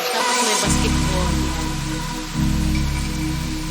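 Rain starting to fall outdoors, a steady broadband wash that swells in suddenly after a quiet start and stays loud and continuous to the end.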